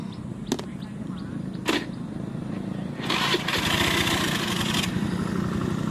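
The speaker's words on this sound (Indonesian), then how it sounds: "Tuh, mesinnya nyala." An engine is cranked with a couple of short sputtering attempts, then catches and settles into a steady, fairly loud running chug close by; no one speaks over it.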